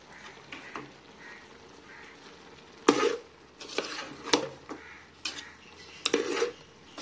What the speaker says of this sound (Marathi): आता खोबरं ॲड केल्यावर हे छान मिक्स करून घ्यायचं.